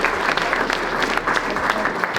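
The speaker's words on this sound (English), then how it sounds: "I'd like to say a nice round of applause" Crowd applause at a winter bash gathering, dense and fairly loud, a continuous rolling patter of many clapping hands with a few voices faintly mixed in.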